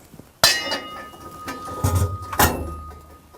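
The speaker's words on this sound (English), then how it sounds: "I'm going to take my pellet grate and slot it in" Metal pellet grate slotted into a SOLARFOCUS Therminator II boiler: a sharp metallic clank, some scraping, then a second clanking knock, close and alone.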